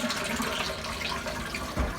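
A Japanese toilet flushing in Tokyo, with water rushing steadily for about two seconds and a heavier gush of water arriving near the end, close and fairly loud.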